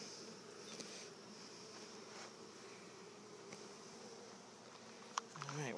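Honey bees buzz in a steady, faint hum during a hive inspection, with a few soft clicks and knocks near the end.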